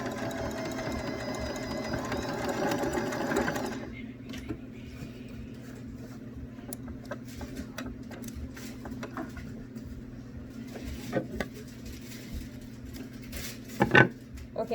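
Sewing machine sewing a straight stitch across pot holder fabric hums and chatters steadily for a few seconds and then stops, leaving faint handling clicks and rustles.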